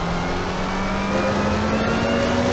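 McLaren 720S GT3 race car at full throttle on the Barcelona circuit in Assetto Corsa, a steady loud engine drone holding near-constant pitch, close and alone.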